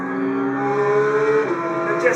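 A Porsche 911 GT3's naturally aspirated engine, which revs to 9,000 RPM, holds a loud, high, sustained howl that climbs and then dips slightly near the end.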